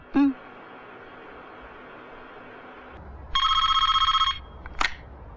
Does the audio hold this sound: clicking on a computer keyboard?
no